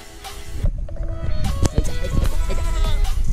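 Goats in a Nepali village on a rainy lockdown day bleat a few times at mid distance, their calls rising over a busy outdoor background with some faint voices.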